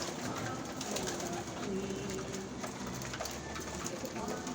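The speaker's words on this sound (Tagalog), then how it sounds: "ang dami kong alagang kalapati" Soft cooing of pet pigeons on a rooftop blends into a steady, noisy background, low and continuous throughout.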